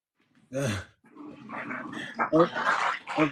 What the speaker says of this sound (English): I heard them growling over there. Her dogs is getting at it.